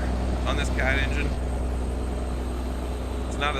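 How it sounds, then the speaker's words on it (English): Truck with a Cat engine idling and running in American Truck Simulator, a steady low drone throughout, fairly quiet and constant, with someone talking over it. "It's a little quieter on this cat engine."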